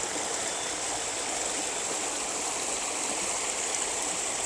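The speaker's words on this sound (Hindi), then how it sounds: "इस जानिब पानी नशेब की तरफ, डाउन की तरफ बढ़ रहा है" Mol River water flowing downstream near Mol Dam outside Karachi, a steady, continuous rushing and gurgling wash with no talk over it.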